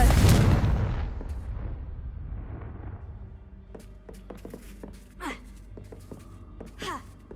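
Confringo fire spells cast in Hogwarts Legacy: a loud booming blast that rumbles and fades over a few seconds, followed by scattered sharp crackles and brief whooshing magical effects.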